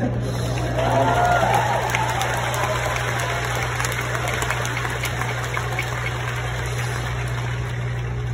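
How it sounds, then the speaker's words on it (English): Audience at a vegan camp-out talk breaking into sustained clapping, a dense steady wash of applause from a crowd held at an even level throughout, with a low hum running underneath. "it's funny that you clap at that"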